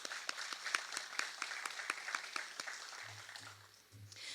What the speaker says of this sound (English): please join me in giving them a round of applause for giving us this space today